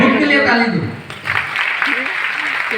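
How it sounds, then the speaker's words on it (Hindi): An audience at a training session breaking into applause, a dense burst of clapping that follows a speaking voice and then tapers toward the end, moderately loud. "खुद के लिए ताली दो।"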